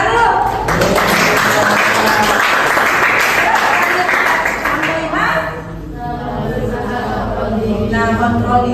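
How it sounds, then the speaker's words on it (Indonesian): Dense applause from a class of students fills the room, steady and loud, with voices chattering underneath and a slight dip before it continues. "Tepuk tangan dulu."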